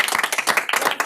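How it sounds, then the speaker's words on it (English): Brief round of clapping from a small audience at a library quiz event, quick uneven claps close by, lasting about a second. "I think Woody does get a round of applause for doing that."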